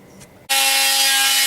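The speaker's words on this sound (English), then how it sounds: "what I'm using is a oscillating cutter, probably one of the best tools ever invented, and so I'm going to make the cuts with it." An oscillating multi-tool cuts into an RV wall for an external stove vent, starting abruptly after a faint lead-in and running as a loud, steady, high buzzing drone with a constant pitch, close up and alone.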